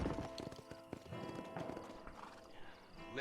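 Horse hooves clip-clop in the western video game Red Dead Redemption, with rhythmic trotting, jingling tack and an occasional whinny, all fairly close and clear.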